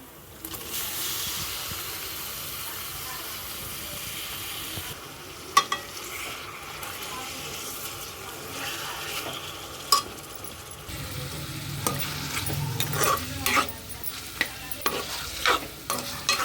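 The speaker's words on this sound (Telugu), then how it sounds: "ఇప్పుడు అయితే మనం ఇందులోకి చికెన్ వేసేద్దామండి" Chicken sizzles steadily with fried onions in a hot pan while a utensil scrapes and stirs, with sharp clinks and louder frying bursts toward the end.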